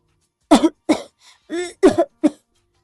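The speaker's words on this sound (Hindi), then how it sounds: "जोर जोर से खांसने लगती है" A voice coughs several times in short, harsh bursts, close and fairly loud, with brief pauses between.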